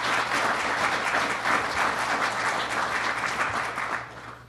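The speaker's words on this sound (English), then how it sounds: "Let's give her a round of applause" Steady applause from an audience at a government funding announcement in Orleans County, many hands clapping over a faint hum before it fades out near the close.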